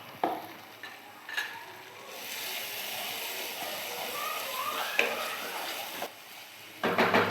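Spice paste for amudi fish curry sizzles steadily in hot oil, with scraping stir strokes and brief clatters of a spoon against the pan rising over the continuous frying hiss.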